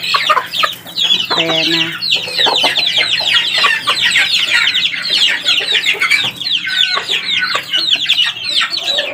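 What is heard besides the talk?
chicks clucking while eating egg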